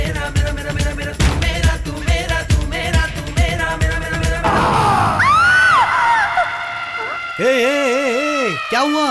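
Someone shouts in a Hindi-dubbed South Indian movie, her loud, rising, wavering cry cutting over music and crowd noise, then ringing out alone in sustained wails toward the end.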